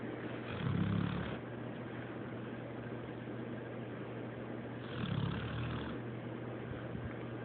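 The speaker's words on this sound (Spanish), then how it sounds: "Nomás lo quiero agarrar roncando." A dog snores softly, two deeper rumbling breaths standing out about four seconds apart over a faint, steady low hum, with no talking.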